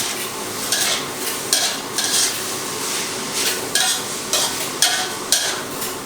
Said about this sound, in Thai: เสร็จแล้วก็ผัดให้เข้ากันครับ